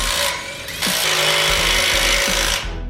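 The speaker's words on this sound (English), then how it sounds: "small pressure washer will work just fine for doing these wheel wells" A small pressure washer blasts a car's wheel wells with a loud, close, rough hiss that surges and holds steady for about three seconds, then cuts off.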